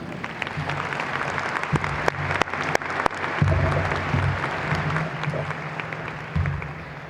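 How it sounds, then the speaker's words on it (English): Crowd at a university graduation commencement ceremony applauding, steady dense clapping with a few sharp louder claps and low murmur, lasting several seconds before easing. "Can we give them a round of applause?"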